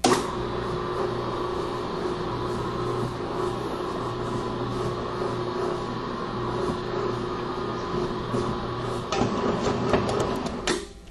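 A stand mixer beats stollen dough at low speed, a steady, loud mechanical whir that runs unbroken for the whole stretch, with a slight change in tone near the end.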